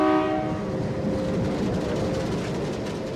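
Maitree Express passenger train pulling out of a station in Bangladesh, steady rumble of rolling wagons with a brief horn-like tone at the start, close and continuous with no talk.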